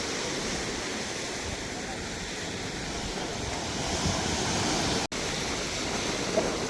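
Sea waves surging onto the shore at night in windy, rainy-season weather, a steady broadband wash of surf and wind noise throughout, with one brief dropout near the end.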